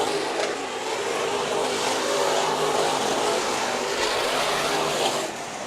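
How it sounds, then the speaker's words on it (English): Race cars roar side by side on the oval at Bakersfield Speedway during a heat race, a loud, sustained engine drone that swells and fades slightly as they pass. "A little side-by-side racing."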